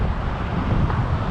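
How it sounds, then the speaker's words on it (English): Loud, continuous low buffeting of wind striking the microphone while cycling in New York City, a dense rumbling roar with no pauses. "Very hard to ride in the wind and then yell over the wind."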